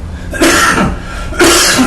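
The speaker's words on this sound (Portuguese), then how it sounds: "desculpem a tosse" Two harsh, close coughs about a second apart, each a short burst of breathy noise, with no talking between them.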